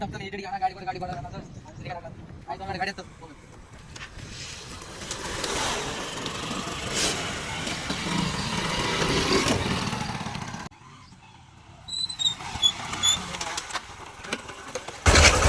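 A motorcycle engine starts and settles into a steady running drone for several seconds, then cuts out before picking up again, heard at moderate distance with people talking around it.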